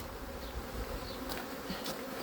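Angry honey bees swarm around an open hive during a hive split, a dense, steady buzzing drone close by that never lets up, with no voices.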